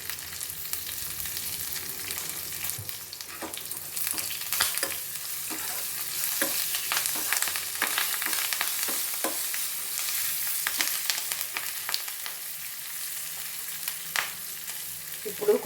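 Dried red chilli, green chillies and curry leaves crackle in a hot tempering for mango rice, a bright continuous sizzle with frequent stirring scrapes and clicks close by.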